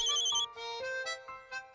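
A phone ringtone plays for an incoming call, a tonal melodic ring of repeating notes, fairly quiet and with no talk over it.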